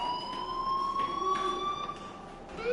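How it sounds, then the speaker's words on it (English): A fire alarm rings in a PS4 video game, a loud, continuous electronic tone that holds steady with slight pitch shifts and brief swells before rising at the end. "do you hear that fire alarm?"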